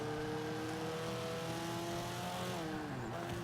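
Rally-spec engine of a 2005 Subaru WRX in Forza 5, holding a loud, steady high-rev drone that climbs slightly, then drops briefly as if shifting, with no talk.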